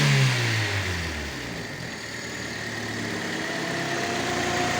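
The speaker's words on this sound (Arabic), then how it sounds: "هذا الموتور ركبناه له." A newly installed engine in a Fiat Punto runs steadily nearby, a loud, continuous engine drone with a deeper rumble easing off in the first second, then holding at a constant idle.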